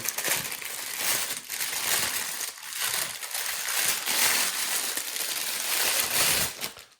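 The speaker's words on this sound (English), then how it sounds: "now let's take the camera out of the packaging" A Kodak PIXPRO AZ405 camera is pulled from its box, the plastic and cardboard packaging crinkling and rustling steadily and close-up for several seconds without any talking.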